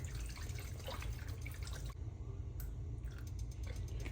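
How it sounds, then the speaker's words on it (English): Gravy bubbles in a pan for smothered hamburger steak, a soft, steady wet popping and sizzling with a low simmering rumble throughout. "See it bubbling like that?"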